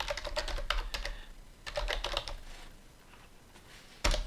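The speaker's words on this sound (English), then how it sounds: "then we'll type in the link here" A link being typed on a computer keyboard: quick clusters of light key clicks, several flurries separated by short pauses, close and soft, then a sharper tap at the end, no voices.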